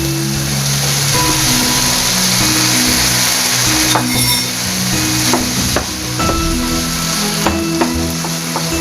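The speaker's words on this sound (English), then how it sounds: "And now I'm going to add the beef." Ground beef frying in a pan gives a loud, steady sizzle that fills the whole stretch, with scraping and knocking from a utensil stirring the meat at irregular intervals, close up and without talk.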